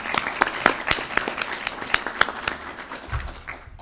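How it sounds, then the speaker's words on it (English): A lecture-hall audience giving a round of applause at an event on Harry S. Truman and Israel, moderate scattered clapping that thins out toward the end. "Really, we'll give her a round of applause"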